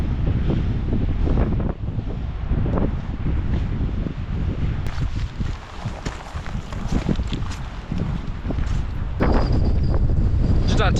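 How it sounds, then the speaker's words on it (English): Strong gusting wind on an exposed mountainside above Loch Tay, roaring and buffeting the microphone in a loud, continuous rush that swells and dips without a break. "Just a tad blustery."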